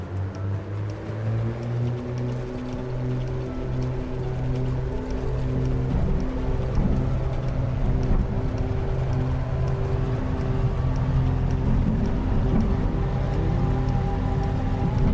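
The twin engines of an A2A Aerostar 600 run at full throttle on takeoff in a VR flight sim, a loud, steady droning hum whose pitch rises slightly as the plane picks up speed.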